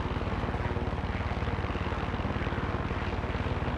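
A helicopter flies in Far Cry 6 with a steady, loud, rapid rotor thump and engine drone that continues without a break.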